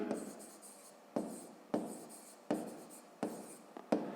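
A pen writes out a maths solution on paper in a series of short scratchy strokes, about six close bursts separated by brief pauses, with no talking.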